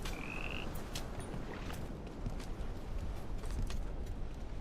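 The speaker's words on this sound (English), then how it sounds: "I heard a frog." A frog croaks repeatedly in the spooky game The Mound: Omen of Cthulhu, faint calls popping up over a dense, constant ambient bed with no talking.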